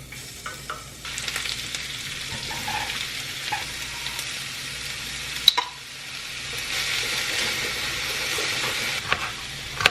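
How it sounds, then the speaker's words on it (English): Onions hitting hot sesame oil in a pan, a steady close hissing sizzle that swells after a sharp clack midway, with faint scraping stirs underneath and no talking. "Add a little bit of sesame oil to the pan, and then the onions."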